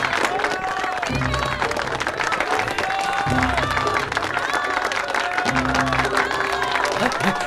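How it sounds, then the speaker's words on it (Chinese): Applause from an audience at a lecture hall send-off, a steady wash of clapping that continues throughout while people talk and shout over it. "下面我们请大家以热烈的掌声来欢送"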